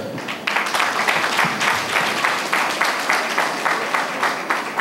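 Crowd applause at a Bloc Républicain political rally in Parakou, a brisk clatter of many hands that starts abruptly and continues strongly and evenly, with no speech over it.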